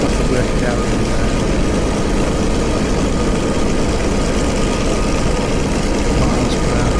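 Messerschmitt Me109 fighter engine at full power during a low, fast pass over Manston, a steady loud broadband roar filling the whole stretch without letup.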